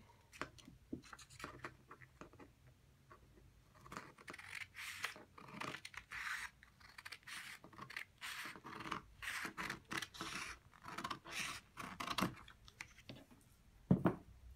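Scissors cut a sheet of folded paper in half along the fold at a craft table. Close, crisp snipping and sliding scrapes repeat steadily for over ten seconds, with no voice over them.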